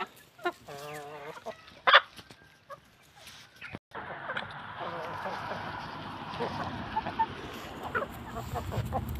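Brahma chickens, including an old hen, cluck and call in a short burst of throaty notes near the start. A farmyard wash of noise and a person's voice follow.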